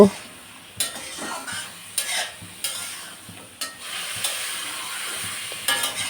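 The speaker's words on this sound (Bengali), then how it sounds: "এবারে ঢাকনা দিয়ে নেড়ে চেড়ে ভাজিটা কমপ্লিট করব" Vegetable bhaji being stir-fried in a pan: a soft sizzle runs throughout, broken by sharp scrapes and clinks of a spatula against the metal every second or so, close and fairly loud, with no voices.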